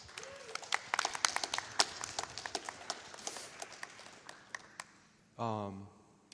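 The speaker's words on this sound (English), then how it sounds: "Can we get a round of applause?" A scattered round of clapping from a small group at a speedrunning event, sparse and uneven hand claps for several seconds, followed by a brief voice.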